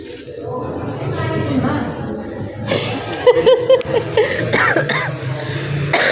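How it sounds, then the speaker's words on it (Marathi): A young child coughs a few times, close and fairly loud, during a crowded temple outing, with people talking around and over the coughs. "खोकला."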